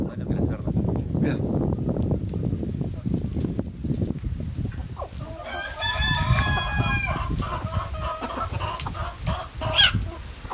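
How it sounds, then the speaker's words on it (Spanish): In a horror video game, a rooster crows once, loud and close, with clucking hens around it. Low speech-like chatter runs through much of the stretch before and after the crow. "El gallo es malísimo."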